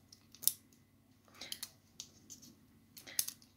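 Packaging from an AliExpress parcel holding a lipstick is torn and crinkled open up close, with sharp rustling bursts and small clicks spread across a few seconds, quiet, with no talk.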